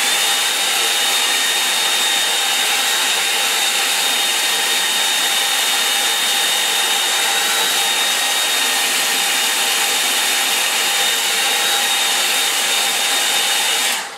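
Hair dryer blowing steadily for a long stretch to dry a model pond scene of a Cornish moor, a loud constant whirring hiss up close with no talking.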